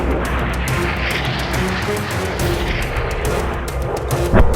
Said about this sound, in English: Massachusetts finally fired her first shots from her 406mm guns